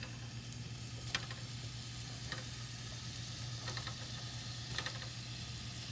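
Meatballs frying in a pan for spaghetti and meatballs give a steady soft sizzle, with a few brief crackling pops scattered throughout and no talking.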